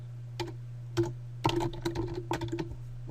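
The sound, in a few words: typing on a computer keyboard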